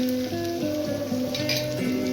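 Green chillies sizzling in hot oil for a tempering for bhagar, a steady crackling fry with a continuous tonal hum in the background.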